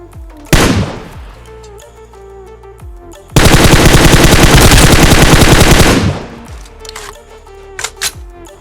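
Automatic gunfire in a battle royale video game: a short burst early on, then a long, loud sustained volley of rapid shots lasting several seconds, with a few scattered single shots near the end.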